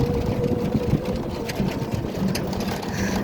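An auto-rickshaw engine drones steadily while the vehicle travels a bumpy road, a close, continuous rattling hum with no talk.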